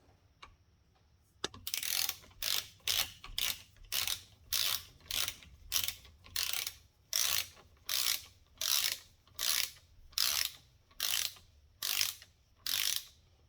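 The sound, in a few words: tightening jet ski top end bolts with a wrench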